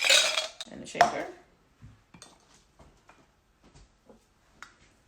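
Ice cubes dropped into a cocktail shaker while margaritas are mixed, giving a loud rattling clatter at the start, then a few sparse faint clinks and taps.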